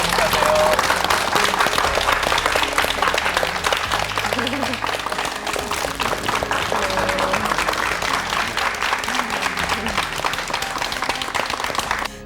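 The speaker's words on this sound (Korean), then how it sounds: "우리 큰 박수 한번 보내드리죠" Studio audience applauding on a Korean TV show about international marriages, a steady, dense wash of clapping filling the whole stretch with faint music and background voices underneath.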